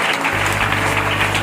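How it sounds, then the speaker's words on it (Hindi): A church congregation claps together in thanks to God, a steady, fairly loud wash of hand claps with a low constant hum underneath throughout. "आप 23 ताली के साथ प्रभु को धन्यवाद दीजिए"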